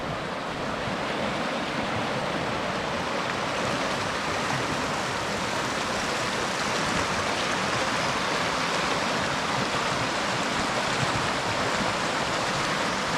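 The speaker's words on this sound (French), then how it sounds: "On est arrivé au bord de la rivière." A river in the Jura runs near waterfalls, giving a steady, dense rush of water that stays at the same level throughout without pause, with a little wind noise and no voices.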